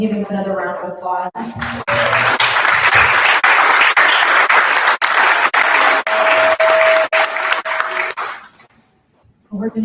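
A conference audience at a leadership workshop breaks into loud applause for a speaker, a dense wash of many hands clapping that swells in after a brief moment of talk and fades out near the end.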